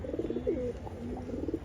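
A Khoyra-gola pigeon coos on a rooftop, a low throaty rolling coo repeated in a few pulsing phrases over a steady background hiss, moderately close and soft.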